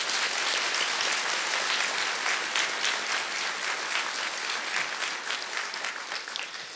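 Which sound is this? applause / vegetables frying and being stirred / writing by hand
applause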